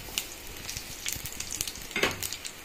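Crushed garlic and mustard seeds hit hot oil for moringa leaves fry, crackling and popping in quick irregular bursts over a soft sizzle, close and fairly quiet.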